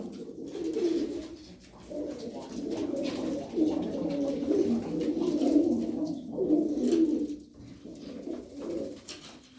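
A loft of about twelve tumbler pigeons cooing, low rolling coos overlapping in near-continuous waves, close and moderately loud, with no talking.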